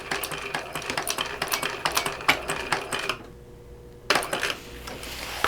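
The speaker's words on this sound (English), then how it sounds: "So I'm just going to sew up this line here." A sewing machine stitches a line on a shoulder bag in quick rhythmic bursts of clattering needle strikes for about three seconds, pauses briefly, then resumes stitching.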